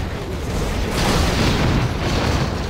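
Building explosions in Command & Conquer Generals Zero Hour roll out as a continuous broadband rumble, swelling louder around the middle and staying dense and booming to the end, with no talk.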